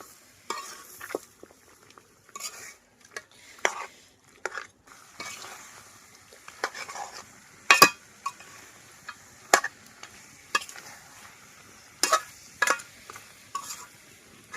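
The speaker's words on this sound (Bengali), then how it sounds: "এই পর্যায়ে হচ্ছে মাংসটাকে আমরা নেড়ে ছেড়ে মিশিয়ে নিব।" Beef with five or six green chilies is stirred in a pan, a spoon scraping and knocking against the metal in irregular clicks over a low sizzle, close and alone without speech.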